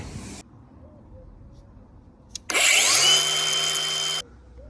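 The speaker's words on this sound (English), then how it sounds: "sometimes I just find angle grinding the heads off is actually easier to do" Angle grinder cutting the heads off screws on a Land Rover Defender, a brief burst at the start, then a loud close screeching cut of under two seconds with falling pitch.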